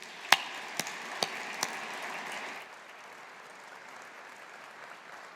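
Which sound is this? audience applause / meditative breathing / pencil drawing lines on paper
audience applause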